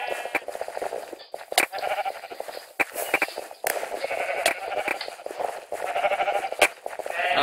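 Sheep in the Minecraft video game, Sheep Quest minigame, bleating repeatedly in short nasal calls over rustling and clicking game sounds.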